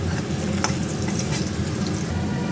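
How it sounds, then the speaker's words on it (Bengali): Potatoes sizzle steadily in hot oil in a pan, a continuous close frying hiss with a few faint scrapes of stirring, no voices. "এদিকে আলু ভাজা হোক"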